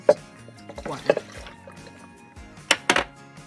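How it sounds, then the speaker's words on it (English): A cup of water is poured over salsa ingredients in a blender jar, heard as a few short splashy pours and gurgles, close, with brief pauses between them. "I am also going to add a cup of water."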